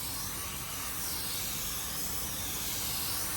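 Spray gun laying a clear coat onto a car body during a paint job, a steady unbroken hiss of atomized spray running the whole time at close range with no voices.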